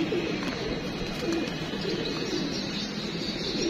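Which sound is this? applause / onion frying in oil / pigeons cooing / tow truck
pigeons cooing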